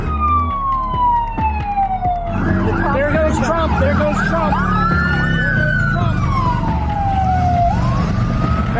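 Police car sirens wailing loudly in a motorcade racing to Butler Memorial Hospital in Butler, one siren close and dominant while others whoop and yelp behind it, over heavy traffic noise, with someone speaking briefly.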